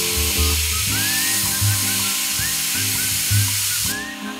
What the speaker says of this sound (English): What I'm doing is I'm taking my airbrush with some very weak black.